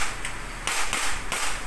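A WE M4 airsoft gas blowback rifle fires three sharp, close cracks spaced about half a second apart, each a bright snap of gas and bolt with no speech over them.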